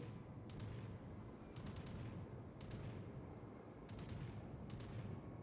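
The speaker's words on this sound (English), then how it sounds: "Now I'm taking some shots, hoping to hit this destroyer when he comes around the corner." Naval guns of the cruiser Kirov fire in World of Warships, with about five sharp, booming salvos spaced roughly a second apart over a constant low engine and sea rumble, and no voices.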